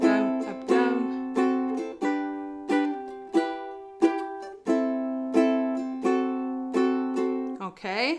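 Ukulele playing the intro of a song with a swing down-down-up strum, bright repeated chords alone and close, with a short burst of voice at the very end.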